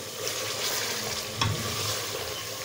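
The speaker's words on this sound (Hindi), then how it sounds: "चलिए 10 मिनट तक मैं इसकी बुनाई करूंगी" Peshawari namkeen mutton sizzles and spits in a pan over medium-high heat, a steady broadband frying hiss with one short clatter of stirring partway through.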